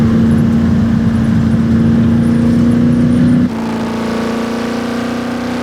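A home-built Ford GT40 drives along with a loud, steady engine drone, then a sudden shift to a lower, calmer tone, like a gear change or easing off the throttle.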